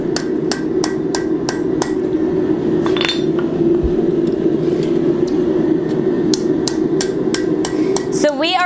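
Steady, ringing hammer blows strike a hot steel leaf on an anvil in a blacksmithing shop, landing in even rhythm with brief pauses and a low background hum.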